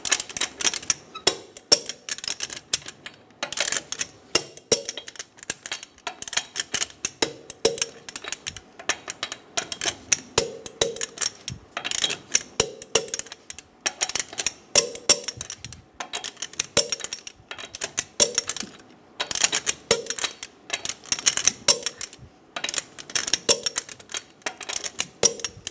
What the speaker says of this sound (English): Torque your wheel in a star pattern